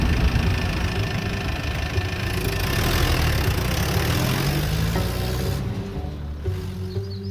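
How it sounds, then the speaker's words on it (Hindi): A car's engine rumbles as the vehicle rolls into a residential colony, a continuous, loud, close drone that holds steady for several seconds before shifting slightly near the end. "सर एक कार कॉलोनी में एंटर किया है।"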